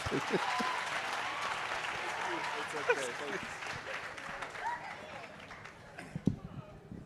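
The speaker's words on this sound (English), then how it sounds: "Let's give him a round of applause, ladies and gentlemen." An audience at a college launch event gives a steady round of applause for the Deputy Minister, clapping evenly with some scattered voices among it and a few louder claps near the end.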